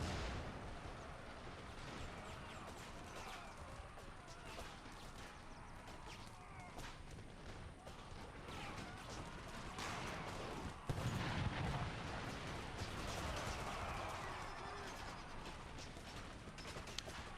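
Dense, continuous musket volleys and scattered gunfire from a battle in Empire Total War, a steady crackling din of distant massed shots with a few louder bursts near the middle, no voices.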